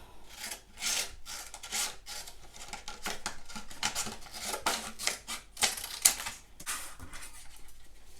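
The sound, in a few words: cutting a piece of paper for a card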